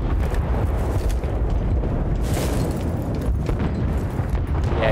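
Mortar shells burst in Bad Company 2, heavy rumbling explosions layered over a constant loud din of battlefield noise, with a sharper blast standing out midway and further impacts following.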